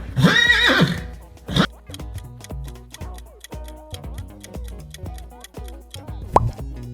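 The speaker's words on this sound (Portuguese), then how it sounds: "é do cavalo" A horse whinnies loudly at the start, a shrill descending neigh, then snorts; soft plopping and ticking sounds follow through the rest, with a sharp knock near the end. No voices.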